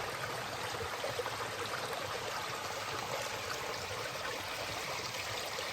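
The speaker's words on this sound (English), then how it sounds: "For a little while now, I've been walking right next to this beautiful stream." A brook of lake runoff flows beside a hiking trail on the Appalachian Trail near West Chairback Pond, a steady, close rushing and trickling of water with no voices.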